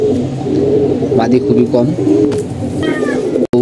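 Pigeons coo in a loft during moulting season, low throaty calls running beneath a man's nearby speech, with a brief chirp near the end.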